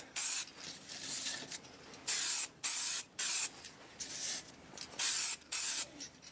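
Short hissing bursts of spray paint coat the chrome lens of an RC light bar, about seven quick sprays in an uneven rhythm with softer rubbing hiss between them, close and loud with no voices.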